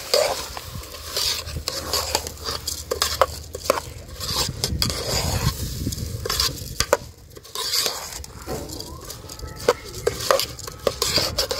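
A spoon scrapes and stirs rice through a pot of potato pulao, with a steady sizzle from the hot oil under the clinks and scrapes of utensil on metal.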